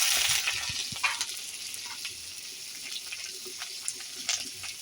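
Chopped onion dropped into hot oil with a five-spice tempering, a loud burst of sizzling that settles into a quieter steady crackle with occasional small pops and stirring clinks, no talking.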